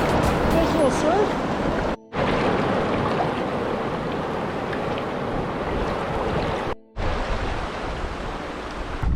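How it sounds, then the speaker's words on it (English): A small surf wave on the Mattawa River during a summer canoe trip gives a steady broad rush of moving water, briefly broken by two short gaps, with people talking faintly over it. "Nice little surf."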